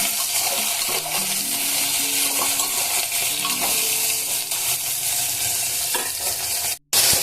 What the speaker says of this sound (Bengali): একদম মিডিয়াম ফ্লেমে অন্তত 10 মিনিট ভাজবো এই আলুগুলোকে